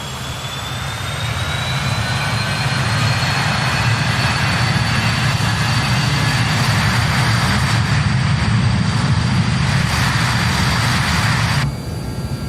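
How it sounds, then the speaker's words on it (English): Jet engines of a BAe 146 airliner in a flight simulator game spool up while the aircraft holds on the brakes, a loud, sustained roar with a steadily rising whine heard from outside, cutting sharply near the end. "we'll go outside to listen to these engines spool up"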